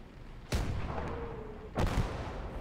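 Two heavy booms from a 105 artillery gun in the tank battle game Gates of Hell Ostfront, roughly a second apart, each a sharp loud blast with a lingering rumble over steady background noise.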